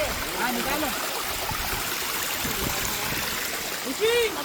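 A hillside stream at Anantagiri Hills pours in a continuous, fairly loud rushing wash, with a brief voice near the end.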